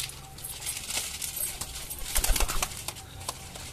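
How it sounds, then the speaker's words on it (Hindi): Pigeons gathered to eat grain make soft, close pecking, fluttering and shuffling sounds in irregular bursts, with faint coos in a quiet setting. "सारे कबूतर भी आ चुके हैं दाना खाने के लिए"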